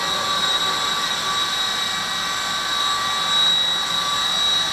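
A V913 RC helicopter with new main and tail motors hovers indoors, a steady high-pitched electric whine with a sharp tonal hum, close and constant without any talk.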